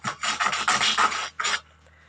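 Plastic model kit parts for a MiG-19 being sanded with sandpaper, a close, harsh rasping scrub in quick back-and-forth strokes, then one final short stroke before it goes quiet.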